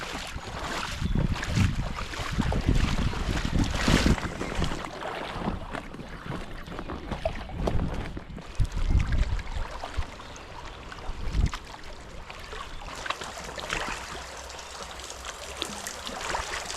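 A Gumotex Rush 1 inflatable kayak is paddled through a gorge in Switzerland, with irregular splashes and water swirling against the hull amid wind buffeting on the microphone.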